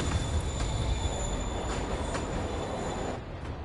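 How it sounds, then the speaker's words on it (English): A moving train in a Spider-Man video game rumbles loud and close, with continuous rolling rail noise and high-pitched wheel squeal running throughout. "Train moving."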